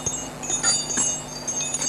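Sleigh bells (janczary) shaken indoors give a soft, scattered jingling with bright metallic clinks, fairly quiet and intermittent throughout.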